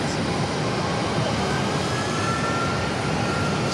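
An Embraer E135 regional jet, once flown by Continental Express and United Express, sits in a taxiway backup at Phoenix airport, its engines giving a steady, loud broadband roar that holds even throughout.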